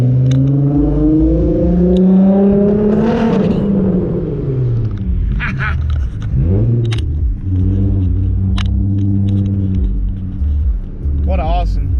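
A car with a loud aftermarket exhaust rumbles and revs hard while driving through a downtown street, the engine note rising and falling close by, with voices talking over it.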